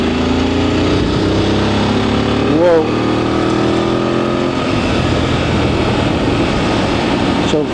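A Voge 900 motorcycle with updated software pulls as the throttle is opened from around 3,000 revs, a loud steady engine and induction roar close to the rider, with a brief exclamation from the rider partway through.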